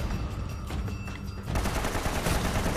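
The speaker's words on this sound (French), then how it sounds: "j'ai réussi à tirer à côté" Dense gunfire in the video game Uncharted grows louder halfway through into a sustained fusillade of rapid shots. It sounds close and harsh, with no speech.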